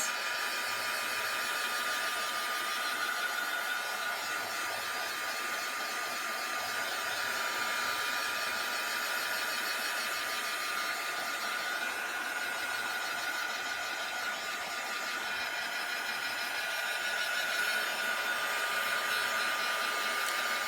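A hair dryer used to dry paint on a journal page blows as a steady, loud, continuous whooshing hum for about twenty seconds, with no talking.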